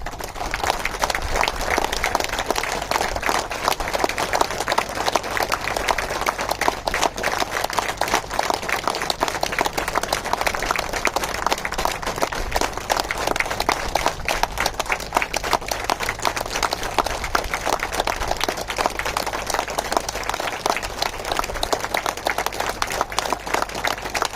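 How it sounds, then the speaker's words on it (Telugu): A large audience at a team meeting claps continuously and vigorously, a dense, loud wall of applause that holds steady throughout without pause. "ఒక 1 minute మీకు మ్యాక్సిమం వీలైనంత వరకు కూడా చప్పట్లు కొట్టండి"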